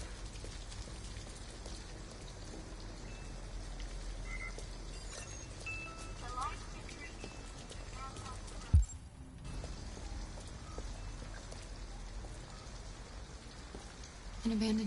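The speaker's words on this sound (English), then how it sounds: "At least we'd be out of the rain." Steady rain in the video game Detroit: Become Human pours on a surface as a continuous dense patter, with a brief thud near the middle and a low rumble at the end; no one speaks.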